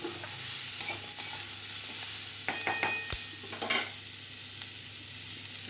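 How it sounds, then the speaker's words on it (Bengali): Garlic, green chili, onion and red and green capsicum stir-fry in oil for a Chinese-style mushroom dish, giving a constant sizzle broken by repeated spatula scrapes and knocks against the pan. "রসুন কাঁচা লঙ্কা তেলের উপরে দিলাম, তারপরে পেঁয়াজগুলো দিয়ে নাড়াচাড়া করতে করতে লাল ক্যাপসিকাম সবুজ ক্যাপসিকাম দিয়ে দিলাম"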